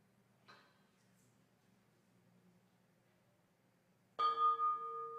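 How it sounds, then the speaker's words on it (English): A single bell sounds once to open a morning worship service, a loud ringing strike with a long fading tone after a faint earlier tap in near silence. "the sounding of the morning bell"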